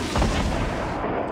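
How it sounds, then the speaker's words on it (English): Rapid gunfire from Fortnite Battle Royale, a dense burst of close, loud shots packed together over a little more than a second, with no talking. "I'm just gonna shoot this very fast"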